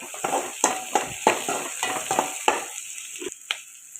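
Okra pickle with tomato sautéing in a pan, a series of rhythmic spoon scrapes and stirs over a sizzle, close and moderately loud, tapering off near the end.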